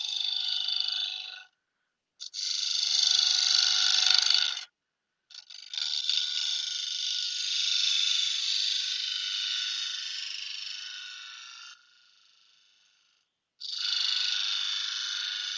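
Harmonic whine from a wooden chalice spinning on a lathe during a finishing cut: a sustained bright, buzzing resonance that cuts out and returns in several long stretches, close and steady, with no talking.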